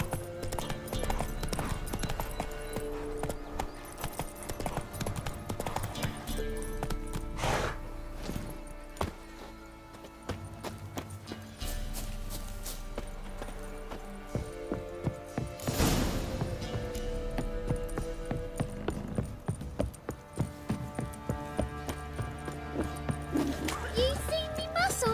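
Horse hooves clip-clop steadily throughout in Witcher 3: Wild Hunt on PS5, a continuous rhythmic trot mixed with game music and ambient sound.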